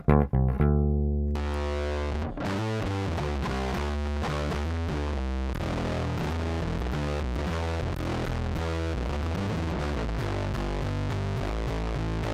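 A clean, undistorted bass guitar plays a steady run of notes, loud and close, with no voices.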